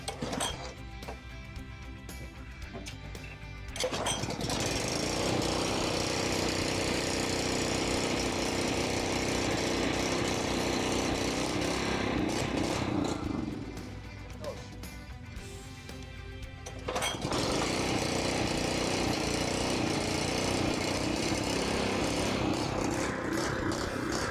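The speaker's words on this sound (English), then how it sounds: "It's going to take a couple of cranks to get it started because the fuel line's empty." A McLane GreenKeeper reel lawn mower engine with an empty fuel line cranks and catches, settling into a loud steady running drone, dipping briefly as it falters before picking back up to a strong idle.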